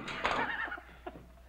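A horse whinnies once, a quivering high neigh fading out, followed by a few soft snorts; fairly quiet.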